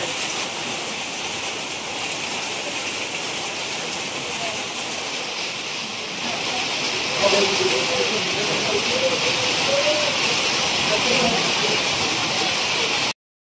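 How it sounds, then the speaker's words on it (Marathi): A heavy downpour drums on a village, a constant hiss of rain that grows louder partway through, with faint voices mixed into the later part. "पावसाची बॅटिंग जोरदार चालू आहे बघा"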